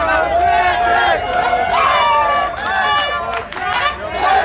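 A large crowd of hockey fans loudly chanting and shouting together to cheer on the Blue Jackets, a dense roar of many voices with rising cries throughout.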